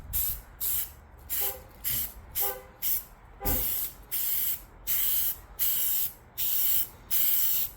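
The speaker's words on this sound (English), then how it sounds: "So just lay some primer here." Primer sprayed from a can onto a 1996 Jeep Cherokee XJ body: a series of about a dozen short hissing bursts in a steady rhythm with brief pauses between, close and fairly loud.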